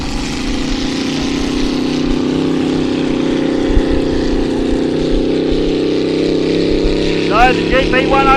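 GP 101 racing powerboat at Glenmaggie, its engine a loud, steady roar sustained throughout as it runs along the course, with a brief whooshing surge near the end and faint commentary underneath.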